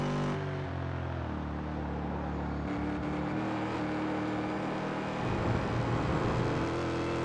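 A race car lapping Summit Point Raceway in West Virginia in a sim racing game, its engine droning steadily with a shift in pitch and a rougher, louder burst toward the end.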